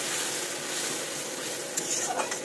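A spice paste of salt, turmeric, yogurt, tomato and a little sugar fries in oil as it is stirred, giving a steady, soft, hissing sizzle at close range, with a few brief scraping touches near the end.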